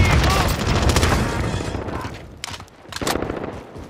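Dense rapid gunfire in a video game, loud and close, bursts of automatic fire rattling continuously before a brief pause and another volley, with voices talking over it.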